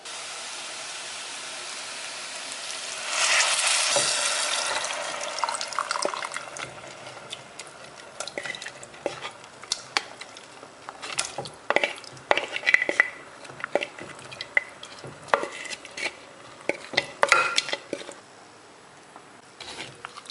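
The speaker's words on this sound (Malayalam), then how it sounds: "നമുക്കിനി വേവിച്ച് വെച്ചേക്കുന്ന മട്ടൺ ചേർക്കാം." Cooked mutton drops into curry masala in a pan with a wet, hissing rush, followed by scattered clinks and scrapes of a metal spoon stirring it, close and intermittent.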